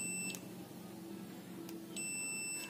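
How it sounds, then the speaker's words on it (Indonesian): A multimeter in buzzer continuity-test mode, used while checking a dead laptop for a short, gives a brief high beep and then a longer steady beep near the end, over a low background hum. "Jadi posisikan ke mode buzzer lagi. Ini avometernya."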